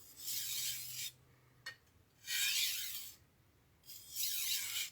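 A blade scrapes across a 400 grit sharpening stone in three slow, rasping strokes, with short quiet pauses between them and a faint tap in one gap.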